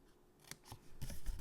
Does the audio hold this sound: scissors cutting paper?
yes